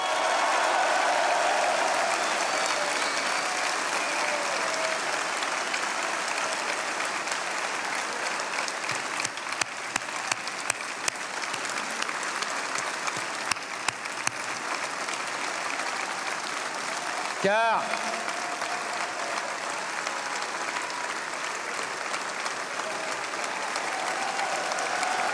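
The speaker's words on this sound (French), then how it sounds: "applaudissons-les" Dense, sustained applause from a large audience at an Eric Zemmour political rally in Metz fills the hall steadily for about twenty-five seconds without pause, with a few sharper claps and brief crowd noise standing out partway through.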